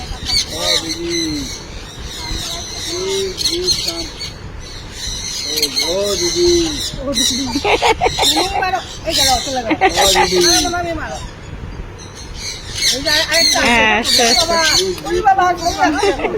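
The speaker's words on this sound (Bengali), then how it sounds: "এখানে দেখো গাছ ভর্তি পাখি, গাছ ভর্তি পাখি, কত পাখি, প্রচুর পাখি আছে" Many birds calling in crowded trees at a Thailand safari park, loud overlapping squawks and harsh calls in repeated bursts, with people talking in the background.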